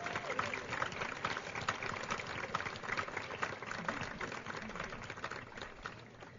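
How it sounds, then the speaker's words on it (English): A crowd at an LGBTQIA+ awards event applauds honored trailblazers, a steady, fairly faint wash of clapping that continues evenly from start to finish. "Let's give them a round of applause."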